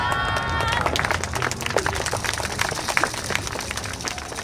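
At an outdoor yosakoi dance festival in Himeji, Japan, a crowd claps in a steady rhythm amid lively background noise, sharp claps sounding together.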